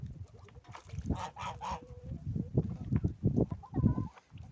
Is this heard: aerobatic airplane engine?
no